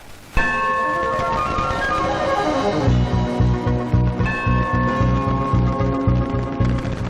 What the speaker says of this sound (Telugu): గంట కొట్టి అడగాలి